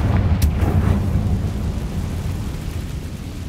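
The Confringo fire spell in a Harry Potter video game goes off as a sharp blast, followed by a deep rumbling roar that lingers and slowly settles.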